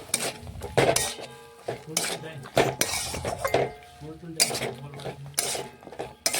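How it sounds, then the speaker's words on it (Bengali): Peas and drumstick flowers being stirred in a pan for a spicy vegetarian dish, with repeated close metallic scrapes and clinks of a spoon against the pan in uneven bursts. "আবারও আমি নাড়াচাড়া করে মিশিয়ে একটু রান্না করে নিচ্ছি।"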